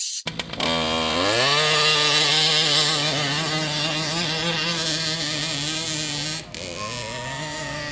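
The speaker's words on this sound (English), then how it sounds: "Including a very cool radio control model, tractor pull." A radio control model tractor-pull engine runs loud and close at a tractor show with hit-and-miss engines, a high buzzing whine that revs up, holds steady, then dips briefly before continuing.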